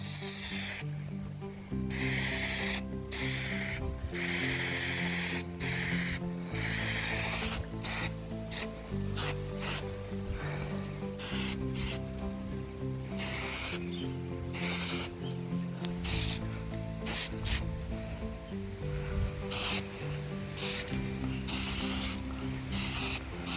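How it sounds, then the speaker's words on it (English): Continuous hissing spray-paint aerosol on an aluminum patio set, loud and steady, interrupted by brief pauses as the nozzle is released and pressed again. "give it another spray"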